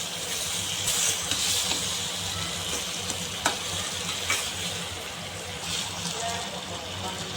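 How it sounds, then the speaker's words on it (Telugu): Tomatoes fry in hot oil in a pan for bitter gourd pickle, giving a steady, dense sizzle with occasional stirring clicks throughout. "ఈ ఆయిల్లోనే మగ్గి ఆ విధంగా మనము ఈ టమాటోలు అనేది వేసుకోవాలి."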